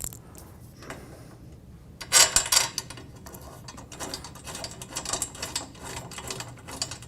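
A 1/4-20 screw being tightened into a wheel axle through a locking washer, heard as a brief cluster of close metallic clicks and scrapes, then lighter intermittent ticking and rubbing.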